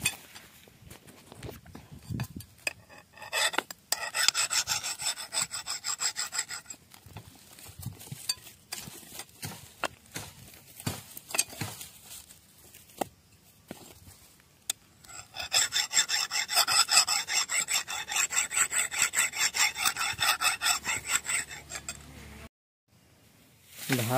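A metal file rasps along a dull blade to sharpen it before cutting bamboo, in bursts of rhythmic scraping strokes separated by pauses. The strokes sound close and clear, and a brief stretch of near-silence falls near the end.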